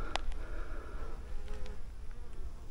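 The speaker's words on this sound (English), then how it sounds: "More wasps? Or are they bees, little bees?" Wasps or small bees buzz around thistles outdoors in the French countryside, a soft, continuous hum rising and falling close by with no talking.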